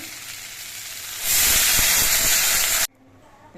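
Broth poured into a hot pan of turmeric-fried potatoes and taro bursts into a loud steady sizzling hiss for about a second and a half, then cuts off abruptly.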